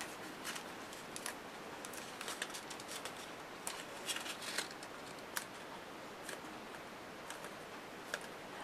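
Paper folded by hand while making a journal yearbook, soft crisp creasing and rustling with a few sharp ticks and taps, close but faint over a hissy background, with no talk.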